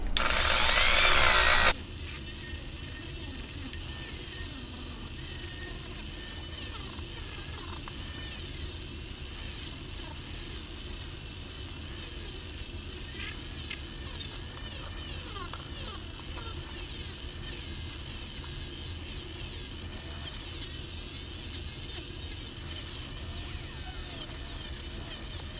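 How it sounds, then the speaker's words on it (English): A small power tool polishes a part of an antique tire gauge, giving a continuous, moderately quiet buzzing hum that follows a brief louder burst at the start. "I'm going to get a little polishing action in here."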